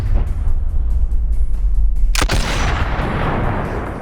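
A 20mm anti-tank rifle in the Boneworks video game fires one single booming shot in slow motion, a sharp blast followed by a long, loud decaying rumble.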